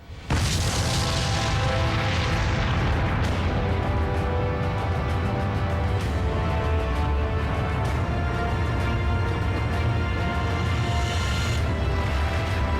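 An atomic bomb test explosion sets off a sudden deep boom that swells into a long, loud, rumbling roar. The roar stays steady for over ten seconds with no voices.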